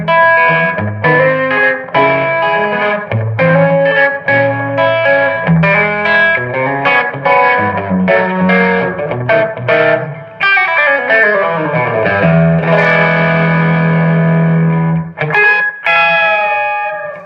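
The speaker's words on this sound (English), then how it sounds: "I've dedicated it as a slapback because it's an analog delay as well" An electric guitar runs through a Seymour Duncan Vapor Trail analog delay set to a short slapback. It plays a loud, continuous country-style riff with repeated twangy notes, ringing sustained chords and a brief bent slide near the end.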